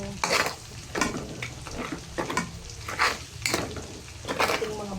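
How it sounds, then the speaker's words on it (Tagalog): Lots of garlic sizzles in pork fat in a pan, cooked for bagoong alamang, with steady frying crackle broken by repeated scraping stirs and utensil knocks against the pan, close and loud. "ating mga bawang. Ginigisa na natin."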